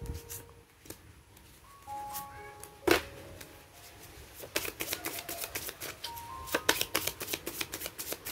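A deck of tarot cards is shuffled in quick bursts of crisp riffling and flicking, with a sharp snap partway through and denser shuffling toward the end over faint soft tones.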